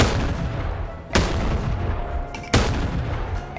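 A shotgun-shell-firing Half-Life pack gun in the Bonelab VR game blasts two loud, sharp shots about a second and a half apart, each followed by a short rumbling tail over a low background.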